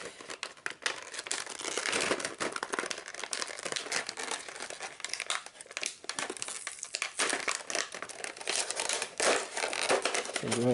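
Tape and plastic packaging being peeled and torn off a Zombicide board game expansion box, a steady close crinkling and crumpling with sharp tearing bursts throughout, faint speech in the background.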